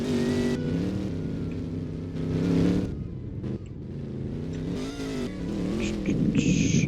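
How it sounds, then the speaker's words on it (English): A loud car engine at a Southwest Florida car meet rumbles and revs in several surges, close and dominant, with crowd noise and brief higher-pitched sounds around it. "I can't hear you because this engine is too loud"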